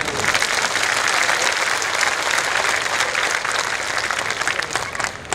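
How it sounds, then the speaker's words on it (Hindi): Loud, dense applause from a seminar audience in Surat during a parenting talk, sustained clapping from many hands for several seconds, close and continuous. "दोनों हाथ ऊपर करके तालियां भी बजा दीजिए जोर से"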